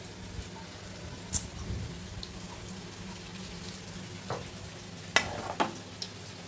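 Chicken chaap fries in a pan with a soft, steady sizzle, broken by a few sharp clinks and scrapes of stirring near the end, and no talking.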